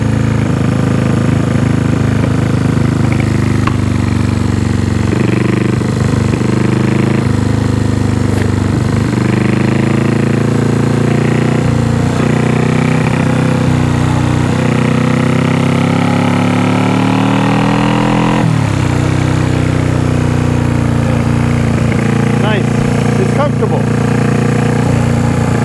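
A 1974 Honda CB360 motorcycle engine runs loud and close after its first start, a steady rumbling idle with throttle swells and revs, and voices talk over it.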